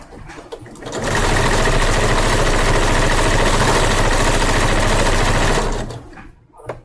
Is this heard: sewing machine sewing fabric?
yes